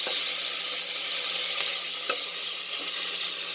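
Leafy greens fry with masala in a pan, a constant loud hiss of sizzling with faint scrapes of stirring now and then, close up and steady throughout.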